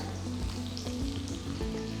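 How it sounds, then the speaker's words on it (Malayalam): Sliced shallots sizzle in hot coconut oil with mustard seeds, a close, steady crackling fry with small pops scattered through, no talking. "അതിട്ട് നന്നായിട്ട് ഗോൾഡൻ ബ്രൗൺ കളർ ആകുന്ന വരെ മൂപ്പിച്ചെടുക്കുക"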